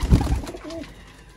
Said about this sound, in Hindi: सियालकोटी मशहूर है ज़माना दोस्तों मोतियों वाले कबूतर